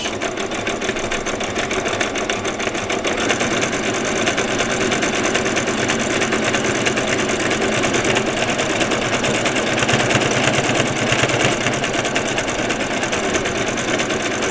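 A sewing machine runs in one long steady stretch as it stitches fabric for vet scrubs, with the edge guided along a plastic piece on the presser foot. The whirring motor hum is close and continuous, with no talk.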